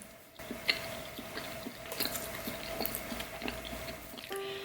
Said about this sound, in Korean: 제가 씹는 소리 들리시죠, 여러분?